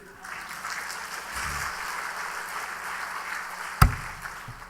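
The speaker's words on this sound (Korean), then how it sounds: "이럴 땐 박수를 해야지 돼." A church congregation at Sunday worship breaks into steady, even applause that holds at moderate level, with one sharp knock near the end as it tapers off.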